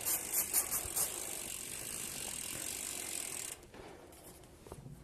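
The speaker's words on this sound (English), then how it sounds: "So I will spin the chain" A bicycle chain being spun after a degreaser spray clicks in a rapid, steady freewheel ratchet at close range, then stops abruptly, leaving quiet handling sounds.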